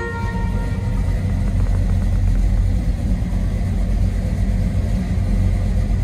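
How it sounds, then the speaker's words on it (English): The 454 V8 of a 1971 Chevrolet Chevelle SS idles with a steady, dense, low rumble, loud and close, with no voices over it. "You hear that 454 under the hood just purring away"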